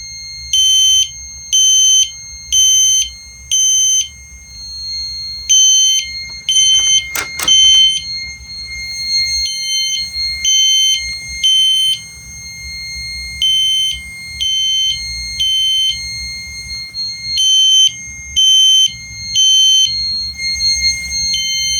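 A Silent Knight IFP-50 fire alarm panel sounds a loud, high-pitched electronic 3K tone in repeating groups of three beeps separated by short pauses, with a brief thump partway through.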